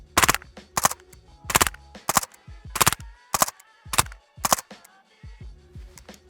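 A suppressed MP5 SD fires several short bursts and then a longer run of full-auto fire, each a dull, rapid cluster of thumps with mechanical clatter, separated by brief pauses and recorded close up.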